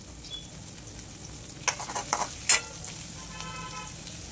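Tomatoes sizzle and fry in a pan while chow mein is being cooked, giving a steady close hiss with a few sharper pops and stirring clatters midway, without talking.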